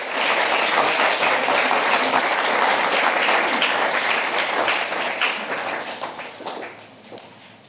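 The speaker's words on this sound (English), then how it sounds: "ask you to give her a round of applause as well" A crowd applauds steadily with dense, loud clapping that holds for several seconds before tapering off toward the end.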